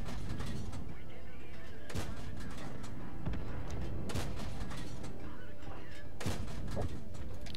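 Heavy tank cannon shots from a British Matilda and a TOG in World of Tanks, several sharp booms spaced a second or two apart over a constant rumbling engine bed and battle noise.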